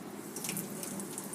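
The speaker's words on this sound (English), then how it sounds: "we're going to start off cleaning all this stuff with slow flow water" A faucet runs at a slow, gentle flow for washing paint brushes and painting supplies, a steady soft splash with light spattering and no one talking.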